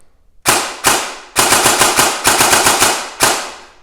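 A Paragon Armory airsoft gun fires semi-automatic, sharp single shots in quick irregular bursts, about fifteen cracks, loud and close with no talking.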